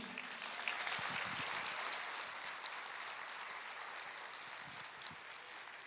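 A church congregation applauding during a sermon on faith and suffering: a broad, hissing wash of many hands clapping, distant and fairly faint, sustained throughout without talk.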